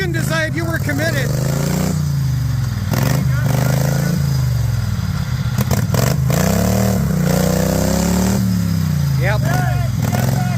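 A mud mower engine revs hard over and over in rising and falling surges during rock bouncing, loud and close, with clattering and scraping and people's voices mixed in.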